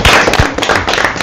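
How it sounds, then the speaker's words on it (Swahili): Audience clapping joyfully at a church choir gathering, a dense burst of hand claps filling the short moment, loud and close with no one speaking. "Tumpigie makofi kwa furaha na shangwe."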